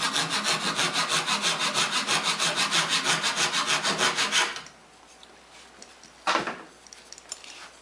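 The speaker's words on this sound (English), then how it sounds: "Now I'll take my dovetailing saw and just trim it off above the glue line." A dovetail saw trims wood flush above a glue line while building a TV stand, about twenty quick, even back-and-forth strokes close up, then a pause with a few faint knocks and one short rasp.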